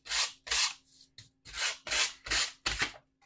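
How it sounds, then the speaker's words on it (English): 100-grit sandpaper rubbed over paint, seven short rasping back-and-forth strokes in a steady rhythm, close and fairly quiet with brief pauses between passes and no talk. "Or you can take a sandpaper. Sandpaper, this is the 100."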